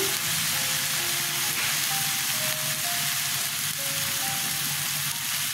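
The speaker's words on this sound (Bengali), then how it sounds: "পেঁয়াজটা কষানো হয়ে গেছে, হলুদ দিয়ে দিলাম" Onion sautéing in a pan with turmeric just added, giving a steady, dense sizzle that runs throughout, close and fairly loud, with no one speaking.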